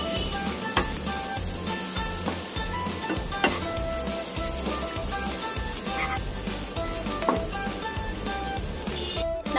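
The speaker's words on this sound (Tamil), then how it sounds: "நம்ம ஆல்ரெடி பொரிச்சு எடுத்திருக்க சிக்கன் பீசஸையும் சேர்த்து நல்லா வெங்காயத்தோட கலந்து விட்டுருங்க" Fried chicken pieces are being mixed with onions, coriander and masala in a pan for Malabar chicken chatti pathiri. A steady sizzle runs throughout, with a constant frying hiss, occasional light scrapes of the stirring utensil and a clatter at the end.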